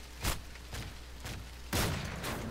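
Two or three gunshots from Call of Duty: Modern Warfare 3 sound in the game, with the last one the loudest, all fairly faint against a steady low background hum and with no talking.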